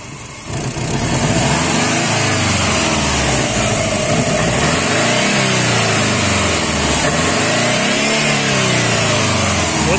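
A car engine runs during an injector flush with LAVR ML 101 cleaner, idling briefly and then revving loudly and repeatedly in rising and falling surges, close and continuous with no talk.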